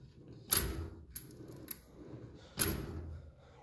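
A few sharp metallic clanks and rattles, a loud one at the start and another near the end, like a tool drawer sliding open with tools shifting.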